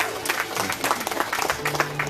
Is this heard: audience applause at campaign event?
yes